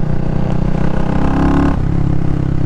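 A CCM Spitfire Bobber's single-cylinder engine runs steadily nearby with a loud, throbbing low rumble and a slight pitch drop partway through, with no talking.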